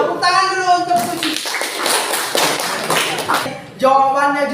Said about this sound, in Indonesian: Tepuk tangan dulu untuk Suci.